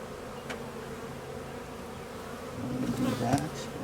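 Honeybees buzz around a farm hive in a steady, close hum that swells louder toward the end, with occasional individual bees darting past the microphone.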